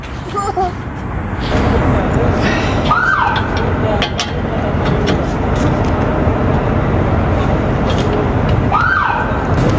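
Fire truck at a civil defense demonstration in Abu Dhabi, loud engine rumble with short siren whoops rising twice, under excited talk from a child and adults nearby.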